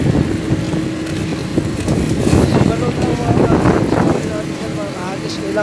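Strong wind in Taiwan roars and buffets the microphone continuously, a loud broadband rush with people talking underneath.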